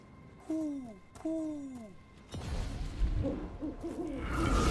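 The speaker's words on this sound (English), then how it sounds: "Another owl." Two distinct descending owl hoots sound in the game Dragon Age: The Veilguard, followed by louder rushing in-game ambience and movement noise.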